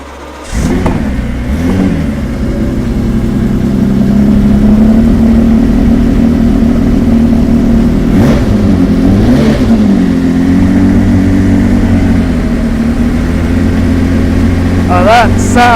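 A Ferrari F50 engine cranks and fires up, then settles into a loud, rumbling idle near the listener, with a few brief revs blipping up and back down.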